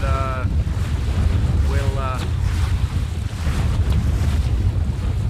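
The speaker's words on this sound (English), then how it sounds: "Offshore breeze blowing about 15 to 20 I suppose" Strong offshore breeze of about 15 to 20 knots buffets a boat at sea, giving steady wind roar and microphone rumble over water noise, with faint voices briefly audible.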